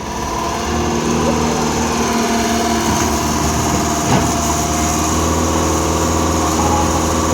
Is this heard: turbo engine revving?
yes